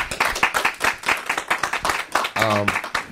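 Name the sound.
audience applause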